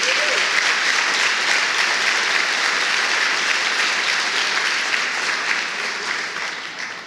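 A church congregation applauds in a sustained, dense wash of clapping that stays strong and then gradually fades toward the end, with no voices over it.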